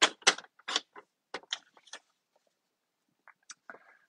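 Paper trimmer cutting cardstock for a handmade card: a run of short, crisp clicks and slicing scrapes up close, then a few quieter taps after a pause, with no talk.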